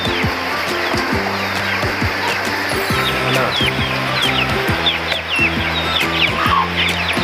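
Several chickens, hens and a rooster, cluck steadily and close by, with overlapping calls and a busy farmyard chorus of other birds in the background.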